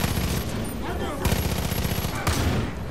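Shotgun and other gunfire crackle in the Far Cry 5 arcade map, with dense overlapping blasts across nearly three seconds, loud and close.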